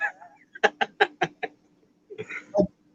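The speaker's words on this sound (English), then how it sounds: "I just saw a chicken fly by." A chicken clucks in a quick run of five or six sharp, evenly spaced notes, then pauses and gives a couple of louder squawking calls, fairly close and alone.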